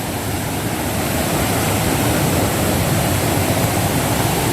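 Loud, steady rush of a fast, dirty river in Jamaica, a dense broadband roar with no breaks, like a swollen river churning close by.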